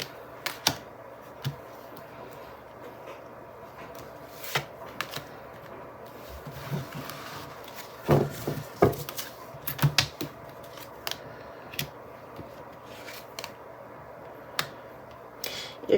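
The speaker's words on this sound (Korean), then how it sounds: "여러분들을 위한 조언 카드 한번 뽑아볼게요" Tarot cards are shuffled and drawn at close range, a scattered series of crisp taps, flicks and papery slaps with a brief busier flurry midway.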